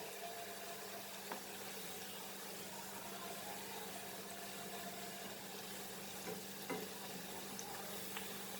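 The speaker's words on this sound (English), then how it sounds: "Don't fry it on high flame, otherwise it will not fry properly." Onion pakoda batter fries in hot oil over a medium flame, a soft, steady sizzle that holds at an even low level, with a few faint clinks, and no one talking.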